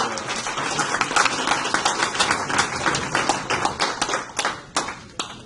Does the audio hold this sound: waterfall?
no